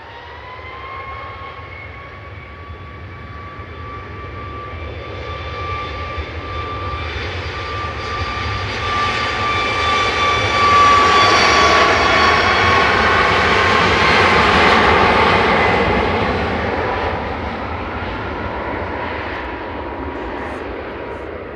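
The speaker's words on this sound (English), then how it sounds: "Next up for departure though is flight 3232 for EasyJet, Ryanair, heading out to Malaga." A Ryanair jet airliner departs Manchester Airport for Malaga. Its roar and high engine whine swell from a distant rumble to a loud peak midway, then slowly fade, with no talk over it.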